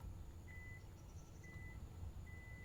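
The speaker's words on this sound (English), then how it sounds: "After 5 chimes, the trunk opens." A 2022 Kia EV6 GT-Line sounds its hands-free power trunk chimes as it prepares to open. Three short, evenly spaced electronic beeps sound faintly over low ambient background noise, with no talking.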